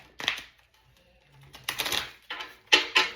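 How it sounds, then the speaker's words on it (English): Cards riffled and shuffled in a few quick, crisp bursts with short pauses between, close by. "let's shuffle the deck again"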